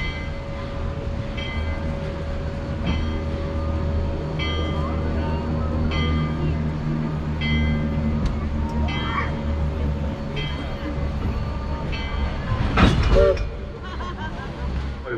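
A Georgetown Loop Railroad train at the station in Georgetown, Colorado, idles and rumbles at close range with a steady low drone, repeated clanks and a louder burst of noise near the end.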